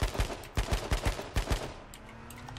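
Gunfire in the battle royale game H1Z1 King of the Kill: several sharp shots in irregular bursts, loud and close, then a quieter stretch with faint background tones.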